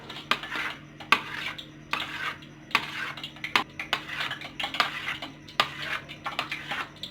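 Namak pare dough being cut into pieces with a knife on a surface, producing a string of irregular sharp taps and clicks, close and fairly loud, with brief scraping between strikes.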